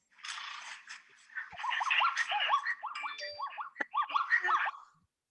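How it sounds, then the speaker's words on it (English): Zebra call played back through a phone speaker: a run of yelping, barking brays that rise into a squeaky braying sequence over about four seconds, fairly faint and thin in tone. "A zebra sounds like this."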